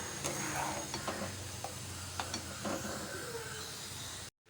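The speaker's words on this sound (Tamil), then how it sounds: "எல்லாமே சேர்ந்து நல்லா கொதிக்கட்டும்" A rice, pepper and cumin tiffin dish bubbles and hisses steadily in a pot over medium heat, with soft pops and clicks over the low simmer, close by and alone.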